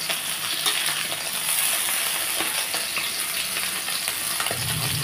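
Pieces of bata fish turned in hot oil in a wok, a dense continuous sizzle close up with faint scraping of the turner, no voices.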